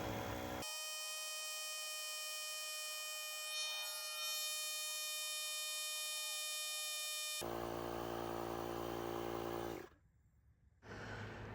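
Lokithor Apart-X 12V portable air compressor and jump starter pumping a car tire from 21 to 40 psi. Steady loud, close, droning whine that runs on and on, with a brief dip near the end.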